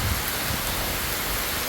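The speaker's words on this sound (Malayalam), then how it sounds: "മഴ പെയ്യാൻ തുടങ്ങി" Steady rain falls in a village, a dense even hiss of drops with no voices and no break across the short stretch.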